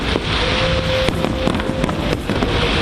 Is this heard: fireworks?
yes